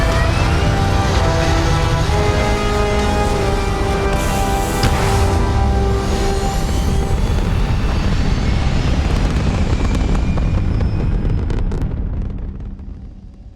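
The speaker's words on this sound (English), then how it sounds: "Pressure holding. Takeoff looks good." A spaceship lifts off in Starfield with a loud, sustained roaring rumble layered with tonal whines, holding steady for most of its length before fading away at the end.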